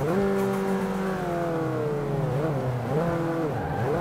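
Race car in the Forza 5 video game, its engine note dropping as it brakes hard into a corner, then revving and shifting down, loud and close with no voices.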